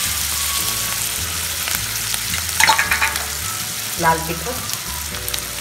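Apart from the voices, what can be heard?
sambar masala and spices roasting in hot oil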